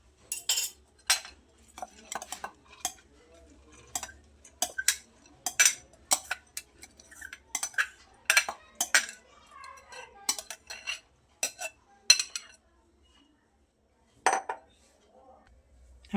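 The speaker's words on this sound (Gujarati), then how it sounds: "2 લીલા મરચાં અને 1 આદુનો ટુકડો, જેને આપણે નાના પીસમાં કટ કરી અને સાથે જ ક્રશ કરી લઈશું" Green chilies and a piece of ginger are cut small and crushed for dal vada batter, giving sharp, irregular, close clicks and taps of a blade and utensils against a hard surface, with a faint voice.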